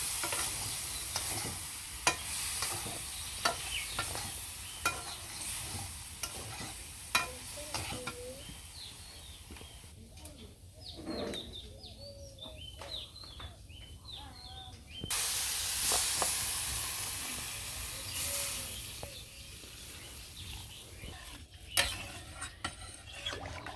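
Green chillies fry and get stirred in a hot pan, giving a continuous sizzle and hiss with repeated scraping strokes and occasional sharp utensil knocks, louder and brighter in the later half.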